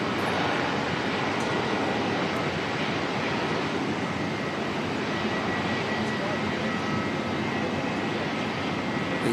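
A Fiji Airways Airbus A350 jet airliner at Auckland Airport produces a loud, continuous broadband engine roar that holds steady throughout.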